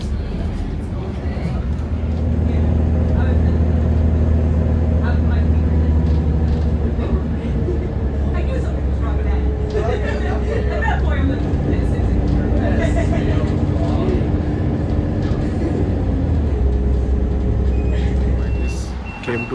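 A bus idles and rumbles close by on a street in Interlaken, Switzerland, a steady heavy engine drone with brief beeps and hiss, while people talk nearby.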